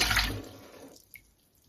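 Water poured out of a brand-new, never-used frying pan in a home kitchen gives a short, fairly loud splashing rush that fades over about a second, with a faint drip afterward.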